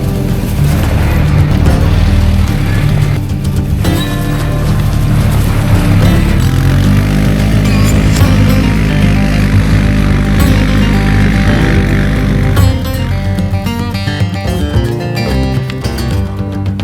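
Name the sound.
BigHorn DXH 550 UTV side-by-side engine running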